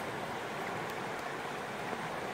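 A river flows nearby with a steady, broad rushing wash of water, continuous and fairly faint, with no voices.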